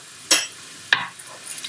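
Spoon stirring tomato sauce with garlic and basil in a pan: two quick scraping strokes against the pan, close and fairly soft, over a faint low background.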